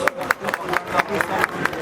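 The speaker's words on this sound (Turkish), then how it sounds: "Alkışlıyoruz." Applause for a contestant at an olive-oil dish cooking contest in Mut, with rhythmic clapping beats carrying through a busy, noisy crowd.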